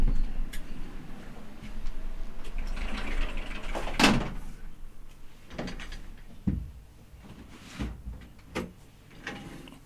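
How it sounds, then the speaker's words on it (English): Doors being shut indoors: one sharp loud closing bang stands out, followed by several softer knocks and thuds at irregular intervals over a low background. "Closing doors"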